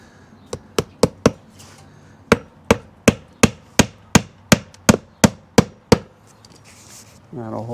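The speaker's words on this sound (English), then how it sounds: "with this up in place, just put a couple roofing nails in." Roofing nails are hammered into a wooden window drip edge with about fifteen sharp, close hammer blows in quick steady runs. A voice begins to speak right at the end.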